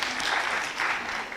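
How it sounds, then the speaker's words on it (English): An audience at a Kenyan children's assembly national meeting breaks into brief, dense clapping, a loud, even burst lasting just over a second. "Clap for him"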